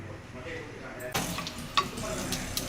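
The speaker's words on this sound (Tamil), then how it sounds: "கொஞ்சம் எண்ணெய் ஊற்றிக்கோங்க. கடுகு, உளுத்தம்பருப்பு, சீரகம், கடலைப்பருப்பு போட்டு" Oil starts sizzling abruptly as mustard seeds, urad dal, cumin and chana dal are dropped into a hot pan, a steady crackling hiss with a sharp pop partway through.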